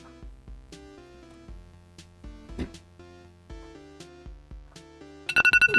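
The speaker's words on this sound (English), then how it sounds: "Yep, that's my alarm." A phone alarm plays a melodic electronic ringtone of repeated tonal notes in a bouncing rhythm, ending in a sharper, louder burst of chimes at close range.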